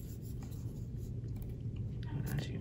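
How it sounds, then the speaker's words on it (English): Scraping the black coating off scratch-art paper to draw, a faint, close scratchy rasping of a stylus in short repeated strokes, quiet and steady throughout. "we're going to scrape off the black to see all the colors underneath."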